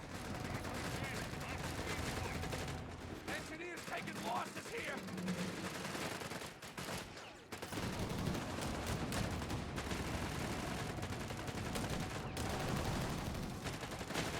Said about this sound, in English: Machine gun does a lot of additional damage